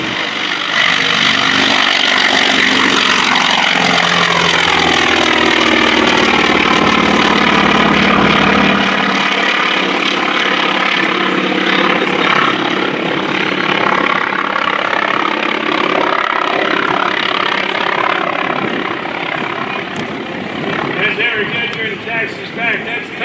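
At an international airshow, an FM-2 Wildcat taxis with a loud, steady piston-engine drone whose pitch shifts as it moves, while an announcer talks over it.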